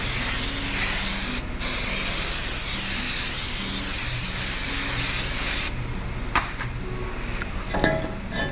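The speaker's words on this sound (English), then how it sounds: "a little bit more spray. Look at that, cleaning brakes with brake clean." Brake cleaner sprays loudly and continuously onto a 2020 Toyota 4Runner brake rotor for about five seconds, washing off the anti-rust oil, followed by faint clinks and handling noises of parts.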